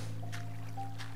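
Minecraft automatic cactus harvester in action, with cacti blocks dropping into flowing water in a short burst of soft splashing and trickling over a steady low hum.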